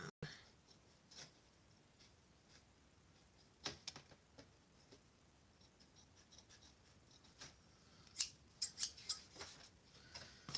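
Scissors snipping through craft material in a quiet room, a series of soft irregular clicks and cuts, some close and sharp, with a quick burst of snips near the end.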